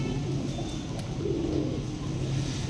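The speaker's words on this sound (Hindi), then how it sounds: "एक से बढ़ के एक कबूतर आ चुका भाई, बेहतरीन क्लास के कबूतर हैं सभी कबूतर भाई" Pigeons kept for sale in a pigeon dealer's loft coo steadily at close range, a low throaty drone with no speech over it.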